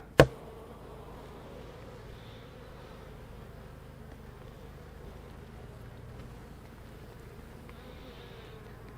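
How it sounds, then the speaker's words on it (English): A steady, faint drone of honey bees fills the air around an opened beehive, with a sharp knock at the very start and a few slightly louder passes of nearby bees. No voices are heard. "So we got us a good concentration of bees right here"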